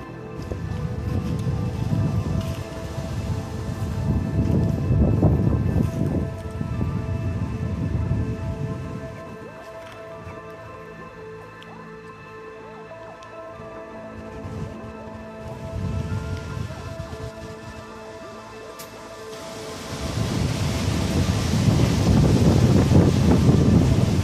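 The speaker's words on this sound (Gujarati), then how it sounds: "જો જબરજસ્ત વાવાઝોડું ચડ્યું અત્યારે" A strong windstorm with rain roars in long gusts, loud and steady for several seconds, dropping to a lower rumble, then swelling again and building to a heavy roar at the end.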